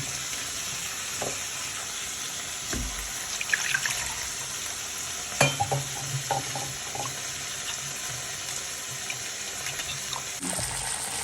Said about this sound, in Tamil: இப்போ வெங்காயம் தக்காளி நல்லா வணங்கிருச்சு